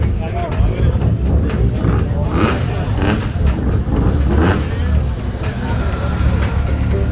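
A Peugeot 106 rally car in the X2 class at the start of a mountain rally opening near a Varna mall, its engine noise held up under a continuous crowd hubbub and a commentator talking throughout.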